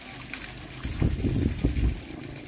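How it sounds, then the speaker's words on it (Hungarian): A person lowers into a small pool of volcanic hot spring water in Indonesia, raising a short burst of close splashing and sloshing after a quiet moment. "Úgyhogy ebben most megmártózom a vulkánmászás után."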